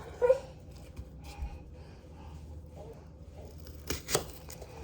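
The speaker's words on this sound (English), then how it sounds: "I'm just gonna cut it. I hate cutting onions." A knife chops an onion on a board in a few sparse, separate strokes spread across a quiet home kitchen, with faint background noises between them.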